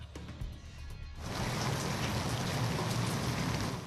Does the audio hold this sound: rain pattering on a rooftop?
yes